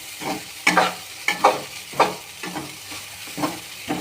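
Hot oil sizzles and crackles in a pan as idli upma fries, with a few sharper bursts as food is stirred, close and moderately loud, no talking.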